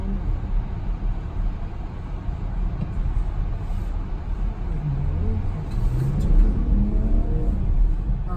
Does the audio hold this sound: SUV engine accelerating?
yes